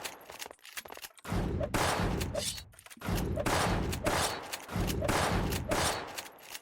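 Gunshots in Gunz The Duel, a rapid run of heavy blasts in close bursts, each followed by a short dash whoosh, loud and repeating with brief pauses, while a voice talks underneath.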